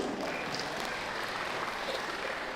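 An audience applauds at a public talk, a steady, fairly faint wash of clapping that fills the whole stretch with no voices over it.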